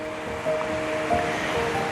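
Ocean waves breaking on a shore, a steady roaring wash of surf with a slight swell partway through, alone with no talking.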